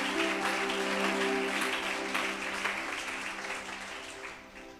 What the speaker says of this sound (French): acclame Jésus pour ça. Acclame bien, acclame bien